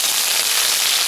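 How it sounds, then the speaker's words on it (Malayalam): Curry leaves hit hot coconut oil while making Kerala-style jackfruit erissery, giving a dense, steady crackling sizzle that runs loud and unbroken through the whole moment, with no voices. "ഇനി അതിലേക്ക് കുറച്ച് രണ്ട് മൂന്ന് തണ്ട് കറിവേപ്പില ഇട്ട് കൊടുക്കാൻ പോവാണ്"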